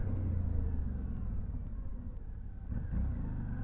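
Motorcycle riding along a road, a steady low engine rumble with wind noise that swells slightly near the end, close and continuous with no talk.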